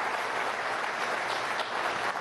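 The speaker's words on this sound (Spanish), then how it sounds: "un aplauso al ministro, Jorge Eliezer Gaitán" Dense, steady applause from a large crowd at a Venezuelan government address, honoring a minister, continuous broadband clapping with no voices.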